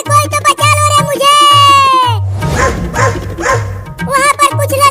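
A cartoon dog barks loudly and repeatedly in a Hindi comedy animation, with yelping, whining voiced barks over a steady rhythmic backing beat.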